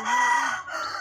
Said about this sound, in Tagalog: Ana ang mga manok diri